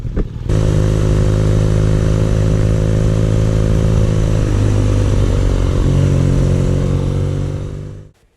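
2019 BMW R nineT Urban G/S motorcycle engine while riding, a loud continuous low boxer drone heard up close and holding steady for about eight seconds before cutting off, with no voices over it.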